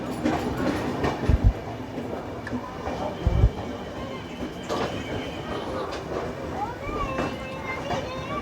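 The Jansewa Express passenger train rumbles along the rails with a steady roar, a couple of heavy thuds and faint squeals. Someone talks over the noise.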